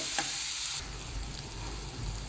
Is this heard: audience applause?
no